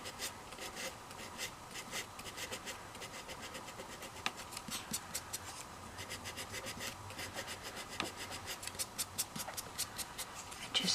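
Sandpaper rubs on a doll in quick, rhythmic scratching strokes, soft and close, repeating steadily with no talk.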